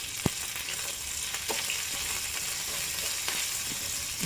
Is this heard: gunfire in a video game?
no